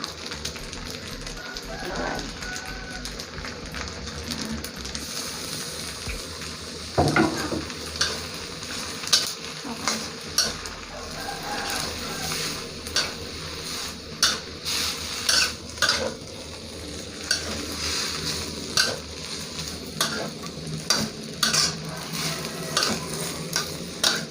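Pad see ew with blanched Chinese kale stir-fried in a pan: steady sizzling under repeated scraping and clacking of a utensil against the pan, close up and continuous, with no talk.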